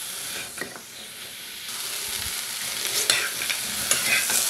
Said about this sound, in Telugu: వీటిని ఎలా కలుపుకుంటూ చక్కగా మగ్గించుకోవాలి.